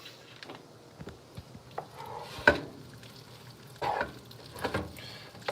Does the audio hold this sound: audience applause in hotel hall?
no